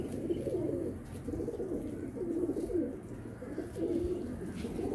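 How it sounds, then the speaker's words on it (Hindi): Golden pigeons coo in a steady, repeating rhythm close by, soft throaty calls rising and falling about once a second over a low background hum. "देखें जी ये भी गोल्डन कबूतर है।"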